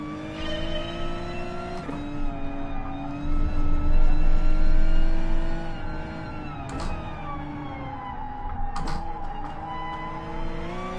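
Gr.4 race car in GT Sport lapping Brands Hatch: a steady, loud, high engine drone with rising and falling revs through gear changes and corners, heard alone and close.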